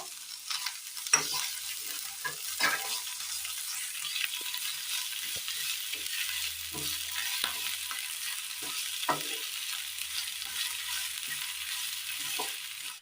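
Onions with crushed ginger frying in a pan give a steady, close sizzle over the whole stretch, broken by scraping stirs at irregular intervals, with no voices.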